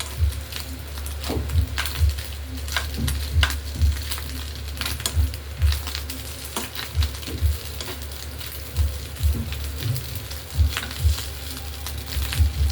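Fish roe frying crisp in oil, a steady close sizzle with soft irregular pops and occasional stirring taps throughout, no talking.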